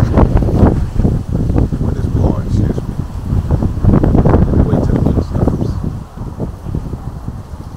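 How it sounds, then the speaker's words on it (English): Strong wind on a beach buffets the microphone in rough, continuous gusts, with a voice partly audible underneath. "Sorry, but the wind is blowing."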